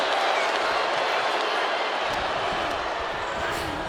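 Crowd noise in a wrestling arena from the video game WWE 2K26 forms a dense, steady roar of cheering that holds at a constant level throughout.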